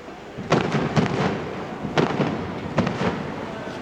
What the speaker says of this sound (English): I hear fireworks going off.